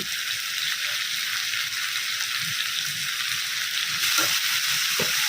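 Onions sizzle steadily in a hot pan with salt just added, a constant bright frying hiss with faint stirring scrapes and no voices.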